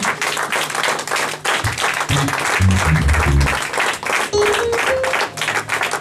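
A church congregation applauding loudly for Jesus, dense continuous clapping at close range with music tones and cheering voices mixed in throughout.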